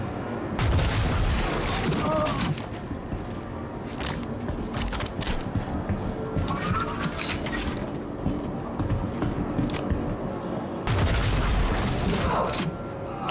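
Electron Bolt electric sniper rifle from Star Citizen firing in bursts of loud, booming shots with crackling, mechanical electric discharges, heavy and dense throughout, with a brief lull near the middle before another strong blast.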